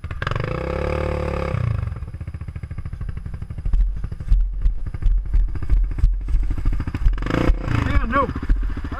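A dirt motorcycle rides between two trees with the back brake locked, its engine chugging and revving close by while the tyres scrape and clatter, and people talk and shout over it.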